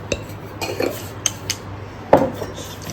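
A spoon clinks and scrapes against a bowl while bhel puri is mixed with salt at home, with a few sharp metallic taps and one louder knock standing out over a quiet background.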